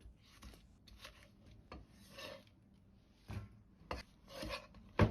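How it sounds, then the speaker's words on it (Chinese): A knife slices napa cabbage stalks into thin pieces on a cutting board, giving a series of soft, close, irregular crisp cuts and scrapes at a low level. "先把白菜幫斜刀片成這樣的薄片，炒的時候就更好成熟和入味。"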